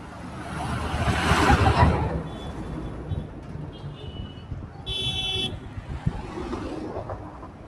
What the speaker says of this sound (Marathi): गाड्या येत आहेत भरपूर